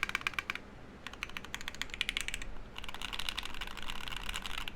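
Bursts of fast, crisp clicking come from typing on a Duck Lightsaver v3 mechanical keyboard with an aluminum case and JTK keycaps, with short pauses between runs of keystrokes, close and alone.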